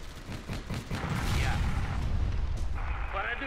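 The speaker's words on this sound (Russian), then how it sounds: "Выстрел по Зондеркрафт фарцогу оставляет его без главного орудия." Tank main gun firing in the WWII strategy game Theatre of War, Battle for Moscow 1941, a heavy booming blast that hits a Sd.Kfz. vehicle, its low rumble carrying on under faint battle noise.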